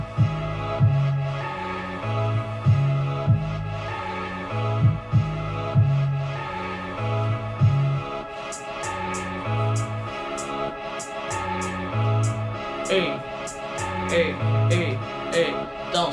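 Boom bap hip-hop beat with a looped melody over deep bass, punchy drums and hi-hats that come in crisply halfway through, steady and fairly loud throughout with no voices.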